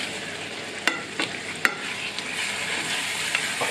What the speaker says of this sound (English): let me just do a quick stir